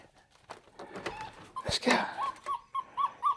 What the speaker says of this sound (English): So yes, we did get another puppy. He's a beagle